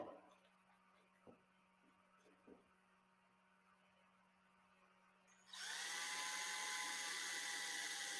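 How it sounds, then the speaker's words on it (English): A drill with a 1/8 inch plexiglass bit bores holes in an aircraft body panel: after quiet shop hum and a couple of soft knocks, the drill whines up abruptly and runs loud and steady to the end. "Drill the 1/8 inch holes using a plexiglass drill bit and install the clecos."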